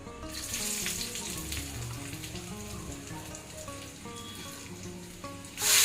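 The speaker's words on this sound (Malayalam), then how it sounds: "നമുക്ക് വറ്റൽമുളക് ഇട്ട് കൊടുക്കാം കേട്ടോ" Dried red chillies fry in hot coconut oil in a tempering pan with mustard seeds, giving a steady, close sizzle that ends in a sudden louder hiss.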